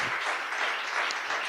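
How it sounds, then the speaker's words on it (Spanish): Applause fills a church service, a dense, even patter of many hands clapping at moderate volume across the whole moment. "otro aplauso al Señor Jesús"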